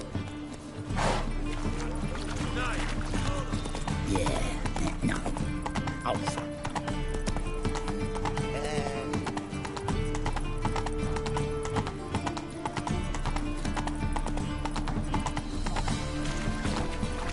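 Roach, the horse from The Witcher video game, gallops in a fast, steady run of hoofbeats that lasts throughout, with a short whinny early on and game music underneath.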